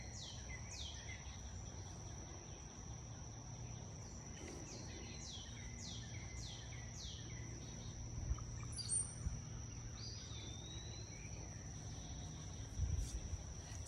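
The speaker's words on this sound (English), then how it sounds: "You can hear the birds chirping in the trees" Birds chirp in the trees of a quiet botanical garden on a busy Father's Day. Short bright calls come in clusters over a steady high insect drone and low background rumble, faint and somewhat distant, with no talking.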